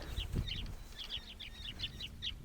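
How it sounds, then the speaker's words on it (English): Repeated high, sharp calls of black-faced wood swallows chirp in a steady series across the clip, faint and at a distance, over a low outdoor rumble. "And I can hear all them birds."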